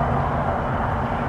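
Distant road traffic beside a graveyard in Port Arthur, Texas, heard as a steady, continuous low rumble and broadband wash of passing vehicles far off, with no voices.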